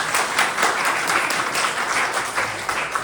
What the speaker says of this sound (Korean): 우리 안찬영 장님 박수로 한번 축하할까요?